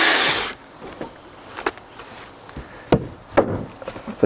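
Screws being driven into timber-imitation siding boards on a frame house facade, a short burst of drill whine followed by scattered taps, clicks and knocks of fastening work nearby, no talking.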